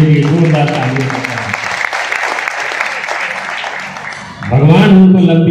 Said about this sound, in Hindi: उनके लिए जोरदार तालियां बजाएं।